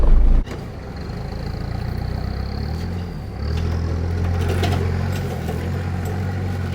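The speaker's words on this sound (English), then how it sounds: "The ute should just simply crawl up, I reckon." Toyota Hilux ute crawling up an offroad hill across a big rut, its engine a steady low rumble with a sharp bump at the start, then a slight rise in revs partway through under continuous drivetrain noise.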